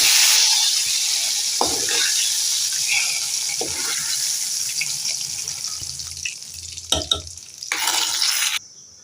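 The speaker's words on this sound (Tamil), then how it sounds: "தாளிக்கு எண்ணெய் ஊற்றி வச்சு கடுகு போட்டாச்சு" Continuous crackling sizzle of mustard seeds frying in hot oil for a bottle gourd curry tempering, with occasional stirring clatter and a brief louder burst near the end.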